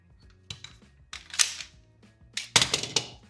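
A Fusion XP Pro pistol gives sharp, close metallic clicks and clacks as its magazine is released and handled, a few isolated snaps early, then a denser cluster of clicks near the end.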